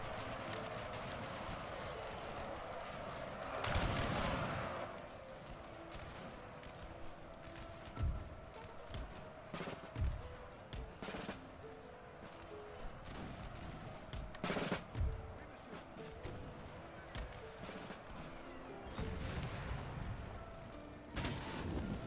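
Musket volleys crack out in a Napoleonic battle in Napoleon Total War, with sharp gunfire bursts recurring irregularly over a steady din of distant combat, some shots loud and close, others scattered and farther off.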